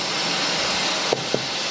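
An electric kitchen mixer runs steadily with a broad whirring hiss while mixing batter for a soda and lemon vegan cake, with two brief knocks near the end.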